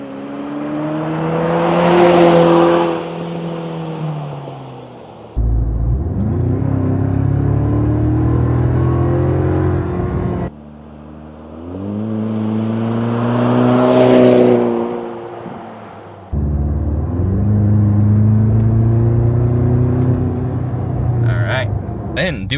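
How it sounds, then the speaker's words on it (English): A 4-cylinder 2024 Toyota Tacoma fitted with a MagnaFlow exhaust drives past at 45 mph twice; each pass rises in pitch and loudness as it approaches, then drops to a lower rumbling drone as it moves away. "And then we'll drive past the camera at 45."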